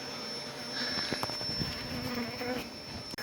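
A close swarm of honeybees hums continuously during a chimney beehive relocation, with buzzing rising and falling as individual bees pass near, and scattered light knocks underneath.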